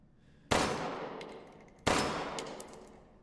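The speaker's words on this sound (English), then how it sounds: "you reload, and you shoot the target" Two loud gunshots fired at a target in Resident Evil Village VR, spaced over a second apart, each a sharp blast with a long ringing decay, followed by faint mechanical clicks and a high whine.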